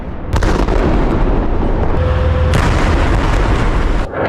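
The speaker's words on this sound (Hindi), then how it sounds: "इजराइल ने इस इलाके में कई इमारतों को भी उड़ा दिया।" Buildings being blown up in Gaza, a sustained, loud rumbling blast with repeated booming bursts rolling over each other, heavy low-end roar lasting nearly the whole time.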